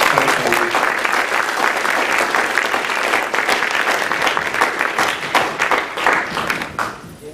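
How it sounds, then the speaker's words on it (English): Loud audience applause at a spiritual lecture gathering, thick and continuous with a few distinct claps standing out, tapering off near the end. "I want all of you to applaud Sri K. Dwarkanath"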